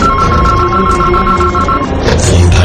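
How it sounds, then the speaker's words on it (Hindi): An intercom rings inside a home, a repeated electronic tone that sounds for about two seconds. It plays loud and close over a low rumbling background, with no talk. "तभी उसका इंटरकॉम बजा।"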